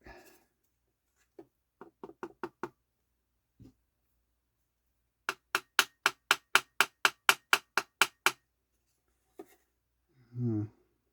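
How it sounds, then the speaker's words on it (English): Quick clusters of sharp rattling knocks as a plastic ball bearing is shaken inside a Sansui P-D10 turntable, a short burst followed by a longer rapid run of about a dozen evenly spaced taps, close and clear amid silence. "It looks like a plastic ball bearing. I wonder if I can shake it out."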